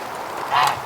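Ducks quack in a snowy barnyard on a frigid early-spring day, a short burst of nasal calls rising over a steady low background, fairly close.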